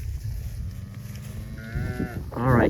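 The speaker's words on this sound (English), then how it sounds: "Do y'all hear anything bawling?" A calf bawls for its mother during a cow-calf herd move onto a fresh paddock of stockpiled fall fescue, giving a few drawn-out, fairly close calls against steady outdoor background noise, with the loudest cry at the end.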